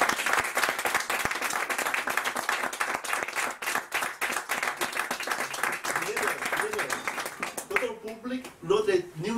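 A book-launch audience claps together in dense, loud, sustained applause for several seconds, thinning toward the end as a voice speaks over the last claps.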